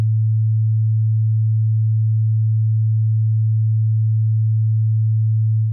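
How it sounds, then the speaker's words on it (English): A single pure low tone holds perfectly steady and loud, with no overtones, from start to finish. "I'm going to leave you with just a pure sine wave"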